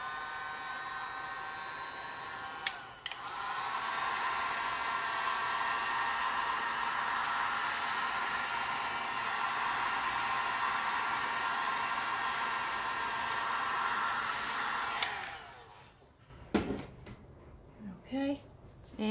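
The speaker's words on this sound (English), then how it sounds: "I'm going to use my heat gun to spread it." A heat gun blows steadily on epoxy resin art, a loud continuous whooshing hum running for about twelve seconds between clicks of switching on and off, followed by brief handling noises.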